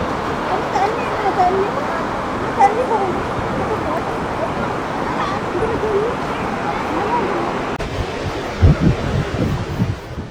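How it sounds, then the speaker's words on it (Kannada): Steady broadband roar of the Gaganachukki waterfalls on the Kaveri river at Shivanasamudra, a continuous rushing wash with someone talking over it throughout. "ಶಿವನ ಸಮುದ್ರದಲ್ಲಿ ಉಂಟಾಗಿರ್ತಕ್ಕಂಥ ಈ ಜಲಪಾತಗಳು ನಮ್ಮ ಕಾವೇರಿ ನದಿಯಿಂದ ಉಂಟಾಗಿರ್ತಕ್ಕಂಥ ಜಲಪಾತಗಳು."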